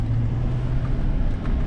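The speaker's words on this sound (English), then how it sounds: "graders, we are pulling out of the yard" Road graders pull out of an equipment yard on a road-grading job, giving a steady, loud low engine rumble that holds even throughout with no speech.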